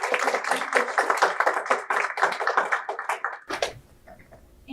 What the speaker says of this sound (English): So let's please give him a round of applause and thank you.